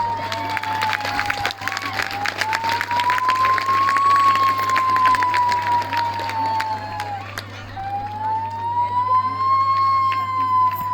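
A fire engine siren wails steadily in slow rising and falling sweeps, loud and continuous throughout, with a low constant hum beneath and scattered clicks and noise around it.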